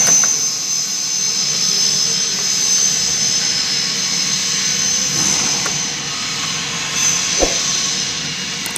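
A 1 HP electric motor runs at low speed under a VFD control panel, giving a steady hissing whine with a constant tone and a couple of faint clicks.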